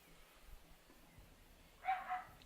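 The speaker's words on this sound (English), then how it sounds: "Don't mind the dog. He just likes to bark a lot sometimes." A small dog barks in a brief double burst near the end, fairly close, after a quiet stretch of low room noise.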